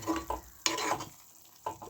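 Spices with turmeric powder are stirred in a pan for white chickpea curry, three short scraping strokes over a faint sizzle, close and quiet.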